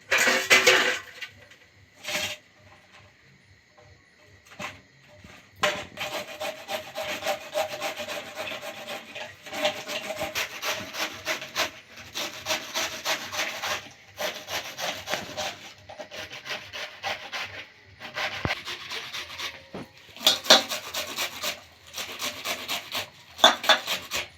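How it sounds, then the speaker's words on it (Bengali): Cabbage being grated by hand, a steady rhythmic rasping of quick scraping strokes, close and fairly loud, in repeated bursts with short pauses between them. "এবার এটাকে আমি গ্রেট করবো"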